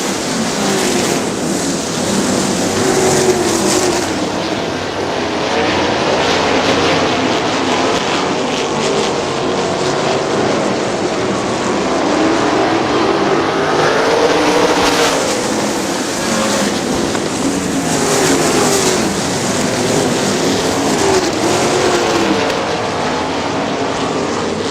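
410 sprint cars race on a dirt track at Butler Battlegrounds in Quincy, Michigan, a dense continuous engine roar that swells and fades as the pack sweeps past at steady high volume.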